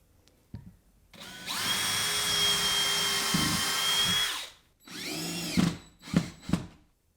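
Cordless power drill driving a screw to fix a power strip to a table leg: one long steady whir of about three seconds, then a shorter burst and a few quick trigger pulses, close and loud, no speech.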